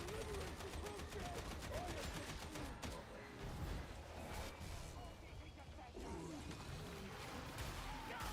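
Continuous gunfire in the Darktide video game, with a steady stream of shots and crashes that stays loud throughout. A voice talks over part of it.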